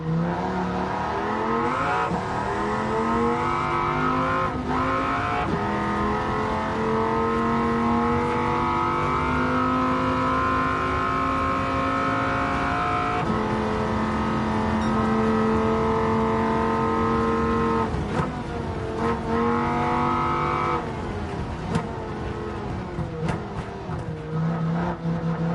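Race cars in Gran Turismo 7 during a blue flag race, engines droning loud and steady with gear shifts and rising revs throughout, no talk.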